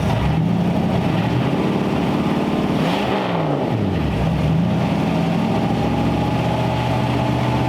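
A 1934 Ford Tudor engine idles steadily with its generator charging, a continuous close, even rumble that dips and recovers briefly partway through, with no talking.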